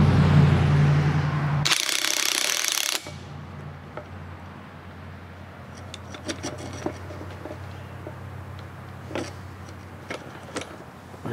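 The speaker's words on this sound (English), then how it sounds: "I just put the puller back on with some thinner washers on the bolts" A puller is tightened to lift a part on a Suzuki motorcycle, with a brief loud burst of noise, then scattered metallic clicks, ratcheting and scraping from hand tools at close range.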